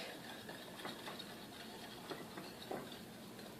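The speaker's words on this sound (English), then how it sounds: "I'm going to mix this all up. I'm going to start with my whisk" Chocolate cake batter being whisked by hand in a bowl, with soft, irregular tapping and scraping strokes that stay quiet and steady and carry no talk.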